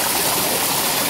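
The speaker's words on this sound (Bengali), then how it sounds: "এই হচ্ছে আমাদের মায়াবী ঝর্ণা" Water from the Mayabi waterfall in Sylhet, running low, rushes and splashes in a steady close broadband roar with no voices.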